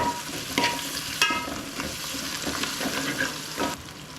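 Mint and coriander leaves tossed into a hot pan for ghee rice, a moderate sizzle with several scraping, clattering stirs at irregular intervals, no talking.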